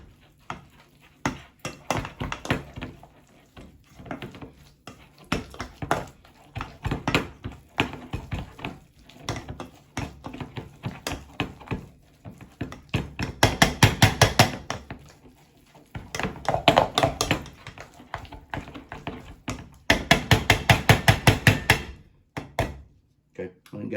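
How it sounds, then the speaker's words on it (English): Baked potato filling with bacon bits is mashed and stirred in a bowl for twice-smoked potatoes, making repeated dull thumps and scraping knocks in uneven bursts, close by, with occasional talk mixed in. "So now we're just gonna start mashing, stirring, and mixing all this stuff up right here."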